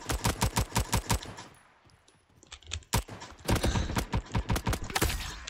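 Rapid automatic gunfire in the video game shooter Frontlines rattles in fast, close bursts, pauses briefly, then resumes with another long stream of shots.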